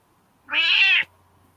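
A single close, clear cat meow, about half a second long, rising and falling over a quiet background with no talking.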